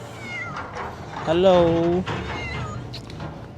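A cat meows clearly once in the middle, a drawn-out harmonic cry at moderate distance, with someone speaking briefly around it in a cold outdoor setting in South Korea.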